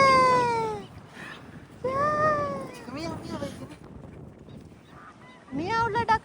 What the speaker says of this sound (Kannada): ಮಿಯಾವುಲ ಡಕ್ಕಲ ಒಟ್ಟಿಗೆ ಉಂಡು